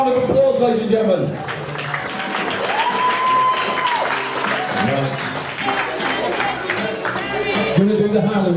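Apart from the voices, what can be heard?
wedding guests applauding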